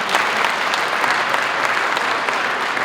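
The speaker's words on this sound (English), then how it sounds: "we say hand clap." Steady, dense applause from an audience at the inauguration of a New York State Assemblymember, many hands clapping continuously and fairly loud throughout, with no break.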